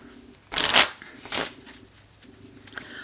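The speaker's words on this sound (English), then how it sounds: "One more shuffle for good measure." A deck of cards is riffle-shuffled twice in quick bursts, crisp and close, followed by a few faint soft clicks.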